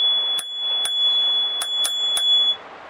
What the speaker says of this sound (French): La sonnette elle est là.